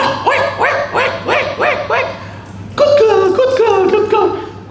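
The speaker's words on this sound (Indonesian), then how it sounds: "anjingnya duduk dan gonggong" A dog gives a run of short, loud barks and yips up close, followed by a person speaking.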